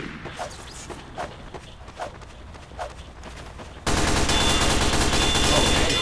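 Gunfire in Team Fortress 2 sounds as a string of spaced sharp shots over game noise, then a dense, loud burst of sustained fire fills the last seconds.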